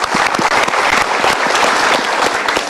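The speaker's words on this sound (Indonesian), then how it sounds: "Kita berikan tepuk tangan lagi" Audience at a live seminar-style event applauds in a dense, sustained burst of many hands clapping, loud and steady throughout with no voices on top.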